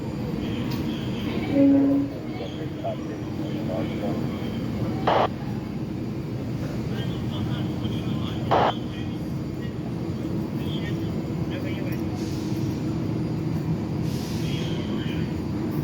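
An Orange Line subway train idles in the station, a steady low rumble and hum filling the clip, with brief sharp clanks near the start and middle and a faint voice talking over it.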